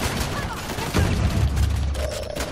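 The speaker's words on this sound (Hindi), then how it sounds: "और टनाटन गोलियां पड़ रही" Gunfire in the video game Uncharted: The Lost Legacy, with bursts of shots and a heavy boom amid noisy combat effects, loud and close with no talk over it.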